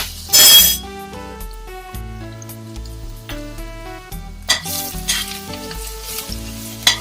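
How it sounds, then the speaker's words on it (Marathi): Garlic hits hot oil for a tempering in an eggplant and potato vegetable dish, a sharp hissing burst at first and later more crackling sizzle, all under steady background music. "तेल गरम झाले, आपण फोडणीसाठी लसूण टाकूया।"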